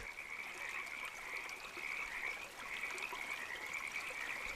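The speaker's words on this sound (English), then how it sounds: "Certainly are a lot of tree frogs out tonight." Dense chorus of tree frogs croaking at night, a continuous loud high trilling that swells and dips slightly, with no talk over it.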